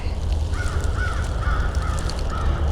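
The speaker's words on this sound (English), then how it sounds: "And there's the crows overhead" Crows cawing overhead in Arkansas woods, several harsh caws spaced out one after another over a steady rumbling background.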